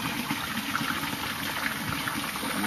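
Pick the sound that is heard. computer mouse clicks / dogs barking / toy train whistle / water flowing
water flowing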